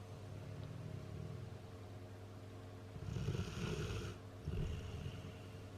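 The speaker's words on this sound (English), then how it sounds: "Yep, that's a good old deep snore there." A dog in deep sleep under a blanket after a walk, snoring in slow, heavy breaths; two louder rasping snores stand out near and close over a steady low hum.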